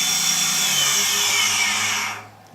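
A toolpost grinder spindle runs at 10,000 RPM, giving a steady, close, high-pitched whine for about two seconds before it cuts off abruptly, with no voices.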